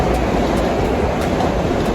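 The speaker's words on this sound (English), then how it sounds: "I've never understood why these trains are so damn loud." A train rushes past close by with loud, dense rumbling and a steady roar, and faint rhythmic high squeals and clicks run through the noise.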